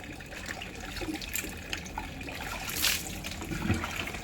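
Water poured over the body while bathing on a hot night, a steady broadband wash and splash running throughout at close range with a louder surge partway through, no speech heard.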